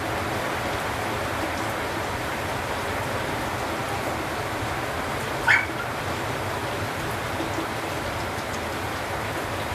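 Heavy, steady downpour from Typhoon Carina during flooding, a dense continuous rush of rain with one brief sharp knock midway and no talking.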